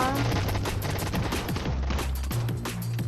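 Rapid gunfire in the Roblox game Fight Gun: a dense run of sharp, close shots fired in quick bursts, loud and nearly continuous with no talking.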